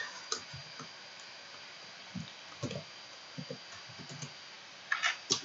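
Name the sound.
computer mouse clicking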